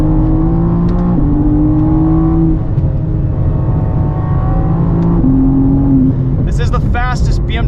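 A 2023 BMW M4 CSL on a race track, its engine droning loudly and steadily from inside the cabin, pitch stepping with gear changes, before a burst of higher whine and rattling near the end.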